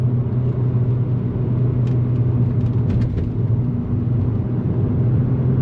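Engine of a 2002 Audi TT 1.8T Quattro droning steadily from inside the cabin as the driver downshifts, a loud low rumble with faint clicks from the pedals or shifter.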